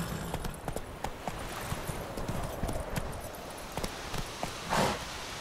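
Horse hooves clip-clopping at a steady trot in The Witcher 3: Wild Hunt, even rhythmic beats close up over a constant ambient bed, with a brief snort or breath near the end.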